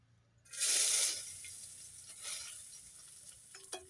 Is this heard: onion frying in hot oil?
yes